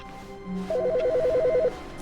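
A phone rings in The Stanley Parable, a single electronic warbling burst of rapid alternating tones lasting about a second, clear and moderately loud over a quiet low hum.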